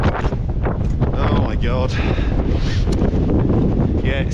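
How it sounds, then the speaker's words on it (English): Strong roaring wind buffets the microphone on the summit of Mount Hotaka in Japan's Northern Alps, loud and unbroken throughout, with a brief exclamation from a voice beneath it. "As you can tell, it's very windy."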